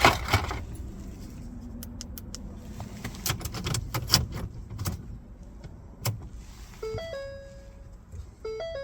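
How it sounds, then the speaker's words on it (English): A new key for a 2005–2017 Ford Focus clicks and scrapes into the ignition and is turned to the on position, with sharp mechanical clicks early on, then a quiet pause and a short series of electronic chime beeps near the end. "Now you need to insert the new key into the ignition and turn to on position."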